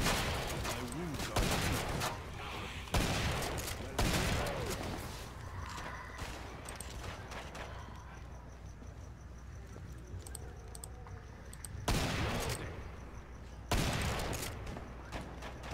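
Gunfire in the video game Killing Floor 2, loud repeated bursts and single shots in clusters with quieter gaps, mixed with keyboard clatter and occasional talk.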